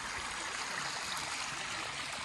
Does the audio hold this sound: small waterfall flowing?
yes